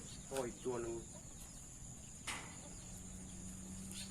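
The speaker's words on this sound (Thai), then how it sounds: "นี่ ลูกไก่" Young chicks and a rooster in a village coop, with a few short, high chirps and calls near the start and another around the middle, all over a steady buzz of insects.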